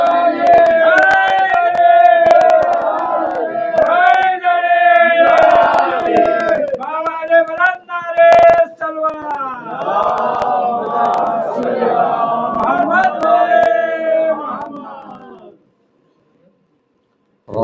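A crowd at a Muharram majlis in an imambargah answers a cleric's call with a loud, repeated, rhythmic chant of a slogan in unison, strong voices rising and falling before cutting off near the end.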